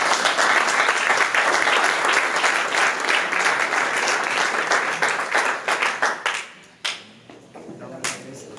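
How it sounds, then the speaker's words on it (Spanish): Loud applause from wedding guests, a dense roar of clapping that holds steady and then thins into scattered claps and fades near the end. "¡Qué fuerte el aplauso!"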